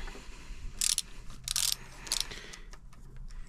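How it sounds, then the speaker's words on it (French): A stem cap being loosened on a Surron electric bike, with several short metallic ratcheting bursts from a tool, close and separated by quiet pauses. "Je desserre le capuchon de potence qui sert à serrer le jeu de direction."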